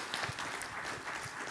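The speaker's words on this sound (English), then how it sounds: "let's give a big hand of applause for our speakers." Audience applause for speakers at the close of a moderated session at the SAFET 2023 technology conference; fairly quiet, steady clapping that lasts the whole short moment, with no voices over it.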